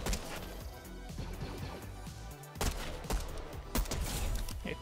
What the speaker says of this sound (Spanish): vamos a disparar a este primero